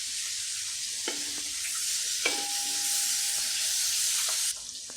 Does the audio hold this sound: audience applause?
no